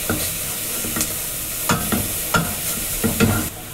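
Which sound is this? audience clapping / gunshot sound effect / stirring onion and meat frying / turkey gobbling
stirring onion and meat frying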